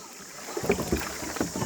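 A hired rowing boat is paddled through water on a forest headwater trip, giving soft repeated paddle strokes and gentle water sloshes close by under steady wind noise.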